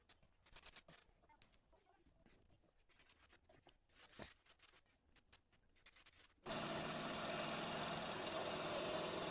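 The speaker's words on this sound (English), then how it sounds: "Now I shall cut a hole with the help of hole saw cutter." A 2.25 inch hole saw cutter bores into wood, first as scattered scraping and knocks, then as a sudden loud, steady grinding whine that holds at full strength to the end.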